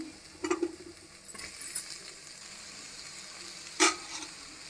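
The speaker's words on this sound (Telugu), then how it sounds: "ఉల్లిపాయలు వేగాయి కదా కొంచెం మనం మునక్కాయ వేసుకుందామండి" Onions frying in a pan as drumstick pieces go in for a drumstick and meal maker curry: a soft sizzle with a few brief clinks and stirring knocks, the sharpest near the end, close and quiet.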